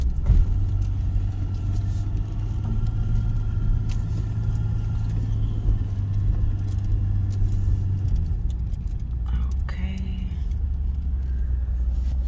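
A car driving up, its engine a steady low rumble throughout, with a brief rattle or jingle of keys or loose items near the end; no one speaks.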